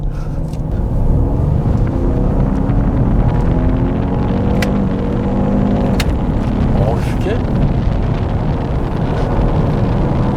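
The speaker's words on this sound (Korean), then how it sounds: "아무래도 이 배기량이 있기 때문에 가속 페달을 전개를 하면 그래도 차가 밀어주는 느낌은 좋습니다." A 2022 Lincoln Nautilus with the 2.7L engine accelerates hard in sport mode, its engine note climbing steadily under heavy road and wind noise while someone talks over it.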